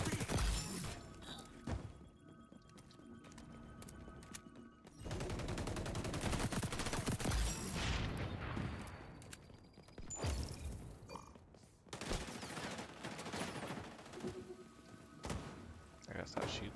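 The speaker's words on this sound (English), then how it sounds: "I gotta stop shooting so low." Gunfire in a first-person shooter game comes in dense bursts of rapid shots and impacts over a continuous game soundscape, while a player talks over much of it.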